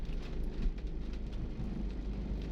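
Steady rain falls outdoors over an empty street and park, a dense continuous patter with low rumbling underneath and no voices.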